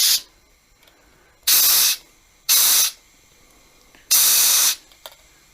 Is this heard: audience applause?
no